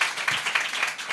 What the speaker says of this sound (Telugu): చప్పట్లు కొట్టి దేవునికి వందనాలు చెల్లిద్దాం.